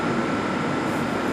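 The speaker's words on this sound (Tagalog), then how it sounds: "Kita nyo naman, yan ang tren." Train at Ben Gurion Airport station platform, a steady broadband rumble and hiss holding evenly throughout with no clear individual clanks or voices.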